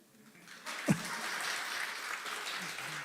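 A church congregation applauding during a Sunday worship service, a brief burst of clapping that rises quickly and holds steady through the moment, moderately loud in a large room.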